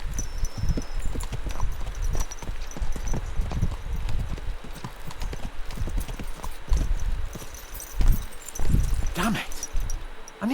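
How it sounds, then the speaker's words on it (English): Hooves clip-clop steadily as a horse is ridden in the medieval game Kingdom Come: Deliverance 2, a close, continuous trotting rhythm beneath a man's speech, with a brief louder stretch near the end. "Let's really spur these horses on, eh?"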